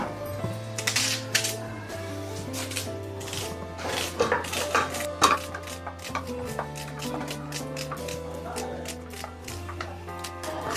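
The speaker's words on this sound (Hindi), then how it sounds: "अभी आपके सामने मैं प्याज काटती हूँ।" Onions for a homemade pulao being chopped with a knife on a board, steady clustered taps and clicks up close, running over continuous soft background music with no talking.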